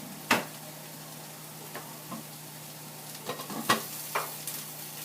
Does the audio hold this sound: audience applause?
no